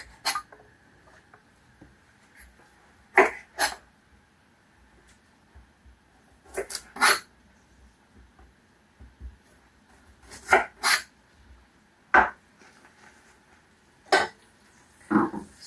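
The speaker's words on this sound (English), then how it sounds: "So now I'm going to trim the leeks. Just taking those roots off." A knife snips and chops through leek roots on a board, sharp isolated cuts coming in small pairs and clusters with quiet gaps between, close and fairly clear with no talking.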